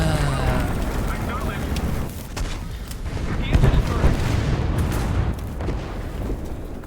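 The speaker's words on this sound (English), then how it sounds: "Drop arty on that point." Artillery strikes land in the War Thunder video game as heavy booms and crackling blasts in a dense mix of battle noise, with a voice speaking partway through.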